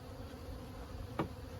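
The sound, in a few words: honey bees buzzing at hive during sunset inspection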